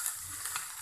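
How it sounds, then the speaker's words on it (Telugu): Amaranth leaves fry with salt in a hot pan, giving a steady, fine sizzle with faint stirring scrapes, close and continuous for under a second. "యాడ్ చేసి ఇలా కొంచెం ఫ్రై అయ్యేంత వరకు ఇలానే ఫ్రై చేసుకోవాలి"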